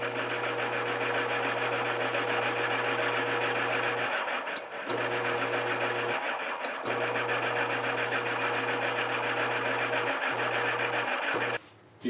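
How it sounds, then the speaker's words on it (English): A sander running steadily as a guitar fingerboard is shaped to a radius on its outer edge, a constant buzzing motor hum broken by several brief dips and scraping contacts as the wood is pressed against it. "we're going to cut that on the outside of the sander here"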